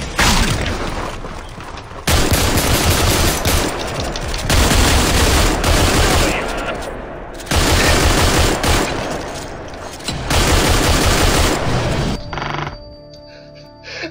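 Video game gunfire in a three-versus-three melee match: loud, dense bursts of rapid automatic fire in several long volleys separated by brief gaps, ending in a quieter stretch with a few scattered mechanical sounds.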